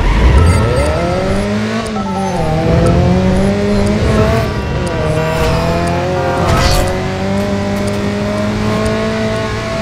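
A car in the Driver: San Francisco video game drives fast, its engine revving up and down in loud, rising sweeps with bursts of tire squeal, close and continuous with no talking.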